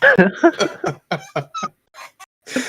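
A voice imitates a demon crow, producing harsh distorted squawks and clucking caws in a rapid run of short bursts, then a few sparse calls after a pause.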